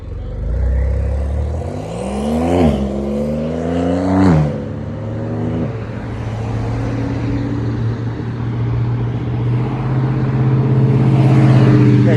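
A Porsche sports car drives past with a rising, revving engine note that swells, peaks and shifts over several seconds, then gives way to a steady lower engine drone that carries on to the end.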